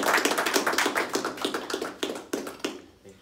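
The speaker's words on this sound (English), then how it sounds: "If you can give a round of applause to Ben" An audience at a robotics club talk on tactile sensing for soft robots claps in a brief, modest round of applause, dense patter that fades out after about three seconds.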